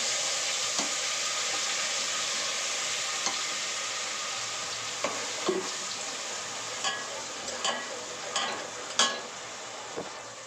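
Spice paste (vatan) frying in a pan with steady hiss, broken by scattered sharp scrapes and clinks of stirring that grow more frequent toward the end; no voices.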